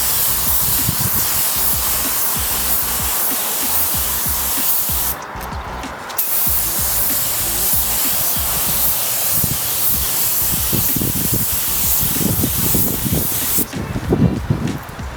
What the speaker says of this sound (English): Gonna shoot a light coat. This is clear, guys.